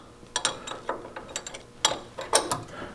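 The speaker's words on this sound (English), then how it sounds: "put a wrench on the nut" Wrench clicking as it turns the nut on a sway bar link of a lifted Toyota, a quiet, close series of uneven metallic ratchet ticks in short bursts.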